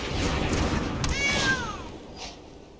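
A cat gives one clear, drawn-out meow that rises and then falls, close by, followed by a faint second sound against a steady background hiss.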